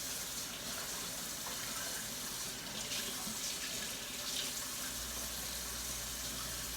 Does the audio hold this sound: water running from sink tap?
yes